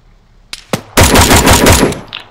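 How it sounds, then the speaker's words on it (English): Sustained burst of machine gun suppressing fire in the military shooter ArmA 3, loud and close, preceded by two sharp single shots and trailing off into faint distant echoes. "Gunner, lay down, suppress some fire."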